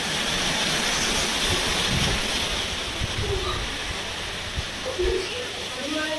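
Steady rain falls around an old house, a dense continuous hiss filling the space, with faint voices in the background.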